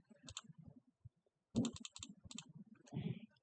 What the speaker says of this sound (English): I'm going to type it in the calculator real quick.